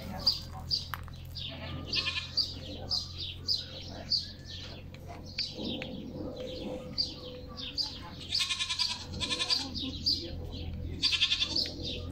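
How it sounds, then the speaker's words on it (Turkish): A young goat kid bleats again and again in a rural village, the calls close and fairly loud, with birds chirping and a low steady hum underneath. "oğlak sesini duyuyor musunuz?"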